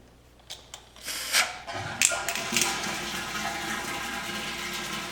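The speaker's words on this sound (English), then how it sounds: "So I'll remove this cap, and you'll notice the water will drain." A few clicks and a plastic cap being removed give way to water rushing and gurgling out of a column steadily, a continuous draining hiss that keeps flowing.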